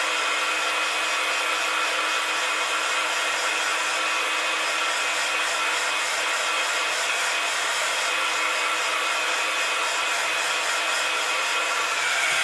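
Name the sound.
hair dryer drying glued craft card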